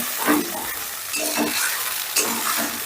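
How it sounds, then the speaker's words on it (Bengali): Masala for a mung dal bora curry fries hard on high heat while being stirred, three rhythmic scraping sweeps of the spoon over a constant loud sizzle, close up and without voices. "এবারে গ্যাসের আঁচটা বাড়িয়ে দিয়ে মশলাটা বেশ ভালো করে কষে নেব।"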